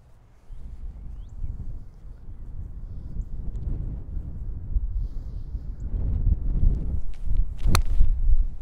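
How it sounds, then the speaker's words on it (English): A single crisp strike of a golf ball hit with a gap wedge on a regular full swing outdoors on a golf course, arriving late amid steady wind noise. "instead of hitting a pitching wedge, I'll hit a gap wedge, but I'm going to make a regular swing on it."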